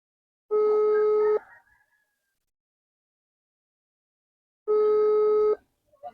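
Two clear bursts of telephone dialing tones, each lasting under a second with a steady pitched tone, separated by a few seconds of silence; nothing else sounds around them.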